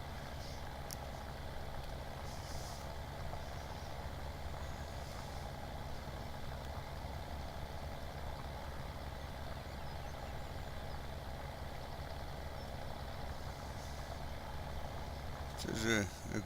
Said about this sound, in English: This is a great tractor to drive this.